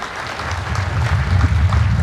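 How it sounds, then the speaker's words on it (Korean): Sustained applause from a crowd at a combined tri-service military academy commissioning ceremony, loud and steady throughout with a deep low rumble beneath, no voices rising above it. "수상자들에게 다시 한번 힘찬 축하의 박수 부탁드립니다."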